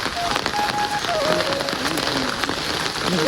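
Rain falls steadily on a village after a night-long downpour, an even, dense hiss of drops with no break.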